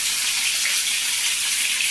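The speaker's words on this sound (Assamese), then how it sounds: "এতিয়া তেল গৰম হোৱাৰ পিছত আমি এতিয়া পৰ্কখিনি দি দিছোঁ" Pork pieces frying in hot oil for a Kati Bihu home meal, a steady, close, hissing sizzle that fills the whole stretch with no voices.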